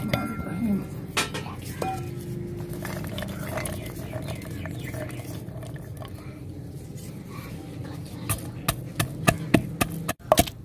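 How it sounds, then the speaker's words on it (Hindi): Ginger and garlic worked into a paste in a village kitchen, with steady close clatter and tapping, then a run of sharp, spaced knocks toward the end, all over a noisy background. "अब हम अदरक और लहसुन का पेस्ट बना लेते हैं।"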